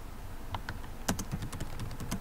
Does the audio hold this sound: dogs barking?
no